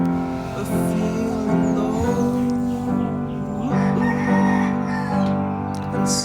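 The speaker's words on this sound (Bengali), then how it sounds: "সেই ক্ষেত্রে কিন্তু মুরগির ডাক শুনতে পাচ্ছেন" Chickens clucking and calling in a village, loud, close fowl vocalisations running continuously with drawn-out tonal calls.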